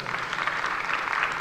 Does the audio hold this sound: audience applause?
yes